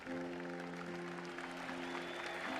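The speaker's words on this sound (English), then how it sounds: "I never seen someone cheer like that" A crowd in the Honkai Star Rail video game cheers and applauds continuously, a dense wash of clapping and voices under steady tonal music.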